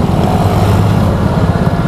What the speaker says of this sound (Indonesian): Datang lagi nih motor, 2 motor.